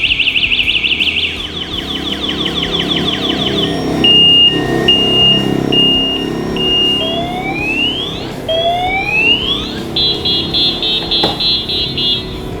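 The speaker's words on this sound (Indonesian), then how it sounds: "Nah ini sekarang ada alarm." Anti-theft alarm on a Viar Akasha electric bicycle, sounding loud and close: warbling electronic tones, a run of steady repeated beeps, rising chirp sweeps, then a pulsing high tone, all over faint background noise.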